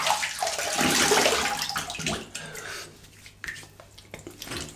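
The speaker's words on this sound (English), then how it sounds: "let's have a quick rinse" Running water splashes and trickles as a razor and face are rinsed during a shave, loud at first and then thinning to scattered drips and clinks near the basin, with no talk.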